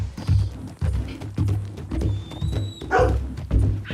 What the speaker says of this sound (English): Is the dog following us?